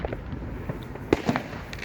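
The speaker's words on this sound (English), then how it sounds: "See that, can you? That's my firework." Fireworks going off outdoors in a short, fairly quiet burst: a few scattered crackles and one sharper pop over a low background rumble.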